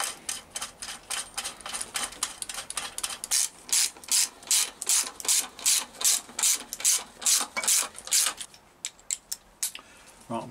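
A hand ratchet torques engine bolts on a Reliant 850 trike during a bottom-end rebuild, with close, rhythmic clicking strokes repeating steadily in bursts, loud and alone, easing off toward the end.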